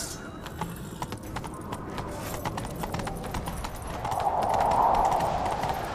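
Rapid hoofbeats of a galloping horse in The Witcher 3: Wild Hunt over a steady outdoor background, with a brief whinny-like tone near the end.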